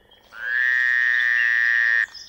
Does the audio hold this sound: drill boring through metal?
no